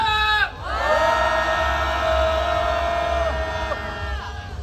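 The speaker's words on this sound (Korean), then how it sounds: "함성 시작!" A street protest crowd in Seoul, marching against Trump's trade pressure and US–Korea war drills, lets out a loud, sustained unison roar of shouting and cheering that swells after a brief dip and holds steady.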